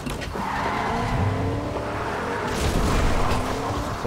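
A car drives in the video game Fortnite, its engine humming steadily at moderate volume with brief tire skids mixed in, and no talk over it.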